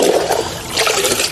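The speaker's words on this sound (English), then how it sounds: "we'll pour a little bit of water in these as well." Water poured from a container into garden plant pots, a short steady splashing gush that swells louder toward the end, close by and with no talk over it.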